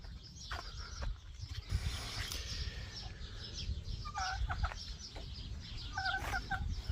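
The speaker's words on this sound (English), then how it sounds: "you want to come and see the chickens?" Chickens clucking nearby in an open outdoor setting, several short bursts of clucks over a noisy background of wind and movement.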